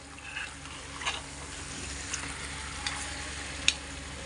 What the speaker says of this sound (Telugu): అట్లా మధ్య మధ్యలో తిప్పుకుంటానే ఉండండి, లేకపోతే అడుగుంటుంది అన్నమాట.